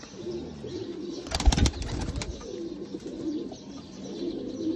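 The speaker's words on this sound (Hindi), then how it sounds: "जोंसरे कबूतर दोस्तों मोतियों वाले कबूतर" Sialkoti jonsre pearl-eyed pigeons coo softly at close range with low rolling calls, and a brief burst of wing flapping is heard partway through.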